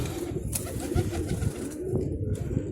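Pigeons coo softly in a low, rolling burble, close by, with no one talking.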